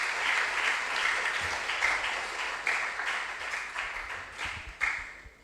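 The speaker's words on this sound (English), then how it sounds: "A round of applause for them." Audience applause for junior high school contestants at a regional science and maths quiz, steady dense clapping filling the hall for several seconds before tapering slightly, with a few louder claps near the end.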